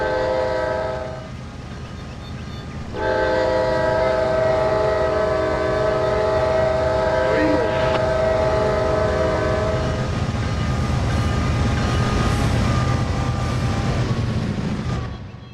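Coal train in the Trainz simulator with a long sustained horn blast, the horn cutting out briefly before sounding again over a steady rumble of rolling wagons.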